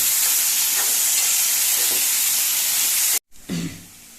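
Bitter gourd bhaji for a Goan-style dish frying in hot oil, a steady loud sizzling hiss that runs for about three seconds, cuts out briefly, then resumes with a stir.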